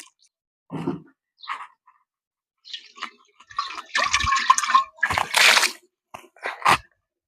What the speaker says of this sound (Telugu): ఇట్లా కుండల నీళ్లు పోసి పెట్టుకున్న తర్వాత